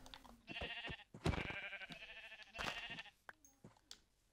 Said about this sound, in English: And the last sheep I need.